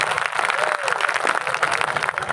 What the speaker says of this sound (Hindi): चलो घर वाली के नाम से ताली बजाओ एक बार।